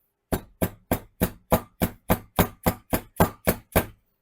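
A hammer taps a bearing race into its seat on a VW Beetle spindle during a disc brake conversion, giving thirteen crisp, evenly spaced knocks, close and moderately loud, with nothing else heard.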